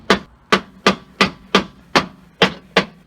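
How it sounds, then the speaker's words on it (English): Eight sharp, evenly spaced metal strikes of a hammer on a chisel, denting the rivets holding a window regulator inside the door of a 1997-2002 Ford F-150 or Expedition, loud and close with no talk. "I'm just going to make a couple indentations with a chisel."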